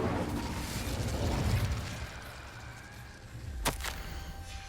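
Incendio fire spell from Hogwarts Legacy, a rumbling whooshing burst with a sharp crackling pop near the end, moderately loud against game ambience.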